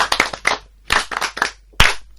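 A classroom group of language learners breaks into short, scattered bursts of hand clapping, a few quick claps then pauses, loud and close, with no talking over it.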